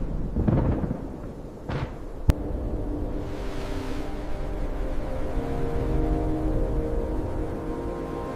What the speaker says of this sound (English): It's called Catatumbo lightning, and it's known as the everlasting storm.